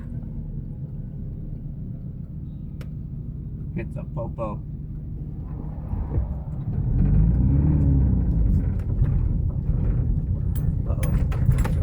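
A truck passes on a road near a parked 1990s Subaru Impreza, its low rumble swelling and holding loud for several seconds after a short remark and a few clicks.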